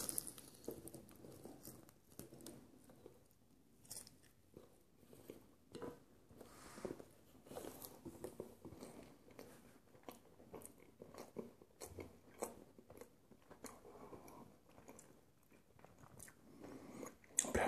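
Close-up eating of tandoor-roasted chicken with white bread, wet chewing and soft biting with occasional crunches, repeating steadily throughout with no talking.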